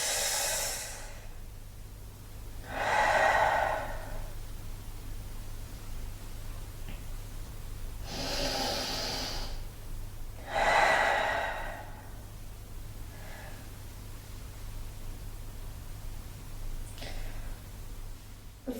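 Slow yoga breathing in and out through the nose or mouth, four long airy breaths spaced a few seconds apart, close and soft over a low steady hum, with no talking.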